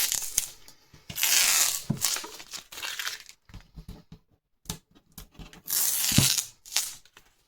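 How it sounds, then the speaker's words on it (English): Masking tape whizzed quickly off watercolour paper after painting a laburnum tree, heard as a few loud bursts of ripping and peeling with short pauses and light crinkling between them, close up with no talk. "if I quickly whiz the tape off, you can see the finished result"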